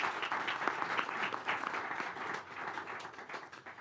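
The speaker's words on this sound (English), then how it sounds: "Please give a round of applause for Zrinka Zlucic." An audience at an alpine ski event in Sölden applauds young ski racer Zrinka Ljutić, a full, sustained burst of clapping that stays strong before easing slightly toward the end.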